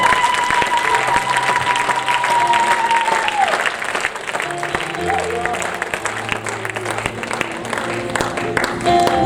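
A church congregation applauds loudly and steadily, a dense continuous wash of clapping and some cheering that fills the room, with a sustained musical tone fading out partway through.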